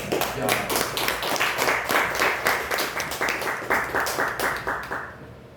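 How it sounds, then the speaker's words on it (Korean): A church congregation claps together in a steady, rhythmic beat, many hands striking in unison and filling the room before fading out at the end. "자, 소개와 박수 치겠습니다"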